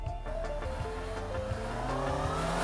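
A 2019 Honda CB650R four-cylinder motorcycle accelerating hard out of a bend, the engine note rising steeply through the revs in one continuous, close, loud pull.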